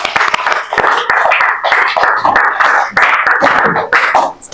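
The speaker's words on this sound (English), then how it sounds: "Clap for Zulekha." A classroom of students at a public school clapping for a girl in class, with a dense, steady patter of many hands across the whole stretch, fairly close and loud.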